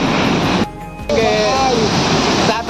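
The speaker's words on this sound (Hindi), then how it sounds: "पानी का नजारा झरना के नजदीक पहुंच गए हैं" The waterfall at Perwaghag falls in Khunti roars loud and close as a dense, unbroken rush that briefly dips, while someone talks over the water.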